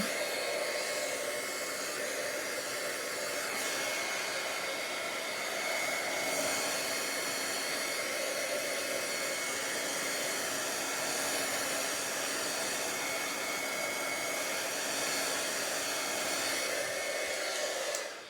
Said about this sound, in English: I just have my heat tool, and I'm just gonna play with it some